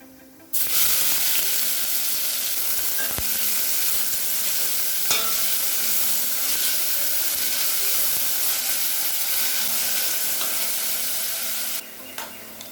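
Finely chopped onions sizzle loudly in hot oil with fennel seeds, a dense continuous frying hiss with a few sharp clinks of a utensil against the pan.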